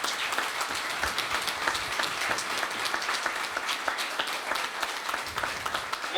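Audience applause at a company gathering, a continuous patter of many hands clapping across the whole span, fairly faint and distant-sounding, without speech over it.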